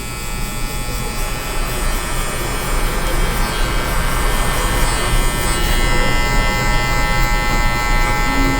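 Electric hair clipper buzzing loudly and steadily while cutting hair during a fade haircut, a close continuous drone without pause.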